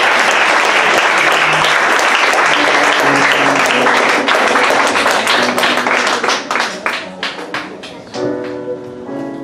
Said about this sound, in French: Est-ce qu'on peut acclamer ensemble le Seigneur du Dieu?